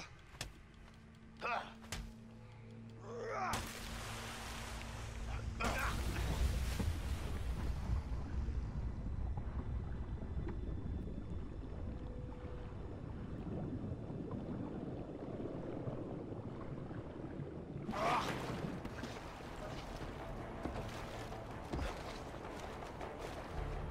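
Boat engine on the water in the video game A Way Out: a steady, rumbling drone that holds for several seconds between louder splashing bursts, with voices talking over it.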